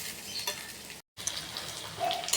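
Rice frying and being stirred in a pan gives a continuous close sizzle with faint scraping. A momentary break interrupts the sound before it resumes.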